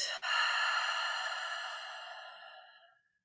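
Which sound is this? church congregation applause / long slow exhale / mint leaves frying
long slow exhale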